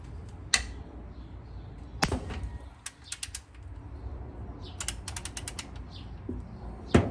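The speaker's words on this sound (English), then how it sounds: "let's get the breaker bar out here" A breaker bar strains against a stubborn front brake bolt on a 1983 Ford Mustang Foxbody, giving off sharp metallic clicks, creaks and ratchet-like snaps in several close, loud bursts with quiet gaps between.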